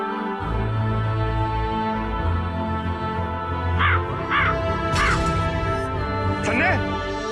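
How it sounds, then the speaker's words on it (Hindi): A crow caws in a Hindi-language TV drama scene, several short harsh calls in the second half heard over music and background sound, with a voice speaking nearby. "जल्दी करो, उस कौवे का पीछा करना होगा।"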